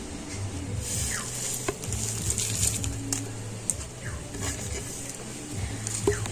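Fried spices are ground on a stone shil-nora grinding slab during mango pickle preparation, making faint, rhythmic gritty scraping and rolling strokes of stone on stone that repeat close by with light tapping.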